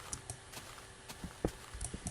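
A horse walks in Minecraft, soft irregular clip-clop hoof steps, faint and close, repeating over a low background hum with no voices.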